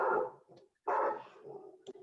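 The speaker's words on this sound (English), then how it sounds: "I'm gonna close my blinds so Clarky doesn't bark" A pet dog barking indoors near a window, two loud bursts of barking separated by a short pause, with quieter trailing sounds afterward.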